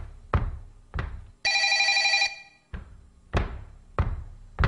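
A telephone rings with one sustained bright bell burst, set among several heavy knocks and thumps before and after it.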